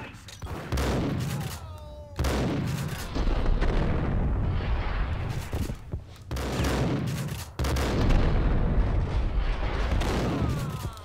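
Repeated loud shotgun blasts from the video game Max Payne, each a heavy, chunky boom followed by a decaying tail, roughly four shots spaced a couple of seconds apart with some clatter between them.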